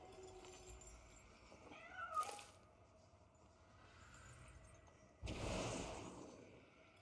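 An ice cat pet meows in the video game Magic Arena, two short mewing calls, the louder one near the end, over a steady backdrop of game music.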